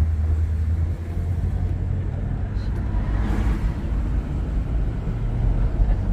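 A 1975 Pontiac Grand LeMans cruising along, a steady low engine and road rumble heard from inside the cabin, even and continuous.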